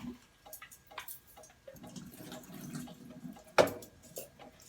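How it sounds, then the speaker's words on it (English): Mushrooms get a quick rinse under a running tap: a low, steady wash of water with scattered ticks and drips, a sharp splash or knock near the end, no talking. "So you give your mushrooms a nice quick rinse"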